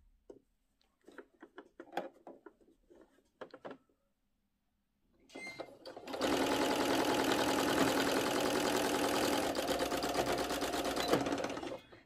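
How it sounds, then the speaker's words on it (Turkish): After several seconds of small clicks and fabric handling, a sewing machine starts up and stitches a fabric pouch in a loud, steady, fast run that lasts about six seconds. "Bir makine ayağı oradan dikiyorum."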